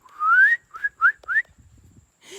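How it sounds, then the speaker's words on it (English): A person whistles to call a dog: one long rising note followed by three short upward chirps, close and clear, then quiet shuffling. "No, you gotta whistle like this."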